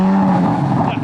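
A Corvette Z06 engine with stock exhaust roars to life and settles into a deep, throaty rumble, close by, with voices talking over it.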